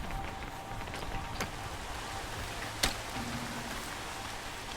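Steady rain hisses evenly throughout in the co-op climbing video game Peak, a dense wash of falling drops with one sharp louder crack near the middle.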